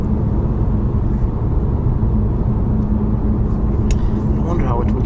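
BMW M5 Competition driven at night on a wet road, a steady low rumble of engine and tyre noise filling the cabin throughout, with a person talking over it.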